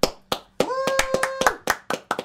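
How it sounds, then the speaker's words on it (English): Several separate hand claps ring out in an uneven rhythm, sharp and close, with a sustained tone sounding briefly beneath some of them. "Clap, clap, clap, clap, clap."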